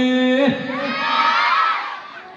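A crowd of children at a public talk shouts out together in one loud, sustained cheer after a single voice leads in, then the shout slowly fades away.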